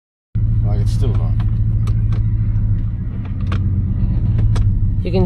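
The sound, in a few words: car clunking and grinding underneath on Gibb River Road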